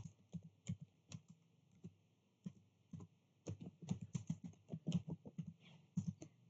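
Keyboard typing on a computer while entering Cisco switch VLAN commands, with irregular bursts of key clicks and pauses, close and fairly quiet, no talking.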